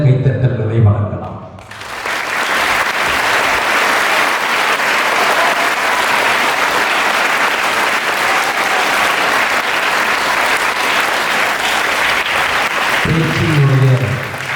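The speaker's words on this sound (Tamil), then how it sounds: "அந்த பெரிய ஆண் பிள்ளைகள் ஒரு முறை நல்ல கைத்தட்டல்களை வழங்கலாம்" Older boys at a Don Bosco school Kamarajar birthday celebration give sustained, dense applause for the little children, a loud continuous roar of many hands lasting over ten seconds, with a voice briefly heard before and after.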